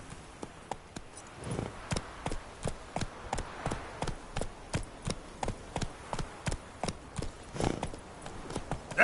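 The horse Roach galloping in The Witcher 3 video game, with steady rhythmic hoofbeats clip-clopping at a quick pace throughout, close and clear over a soft ambient background.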